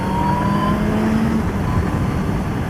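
A motorcycle engine roars steadily as it accelerates out of a corner on a race track, a loud, dense drone that holds its level from start to end.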